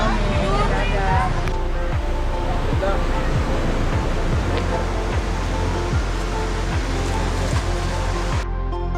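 Sea waves washing onto a beach during a family swim outing, a steady broadband wash of surf continuing throughout, with faint voices in the background.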